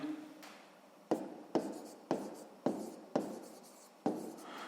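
A pen writes out a maths solution in crisp, repeated strokes, about seven sharp scratching bursts at a steady pace, close and fairly quiet, with no talking.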